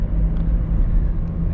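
A 2008 Toyota Prius Grand Touring drives on a highway at night, giving a steady, close, low road and engine rumble inside the cabin with no other sounds over it.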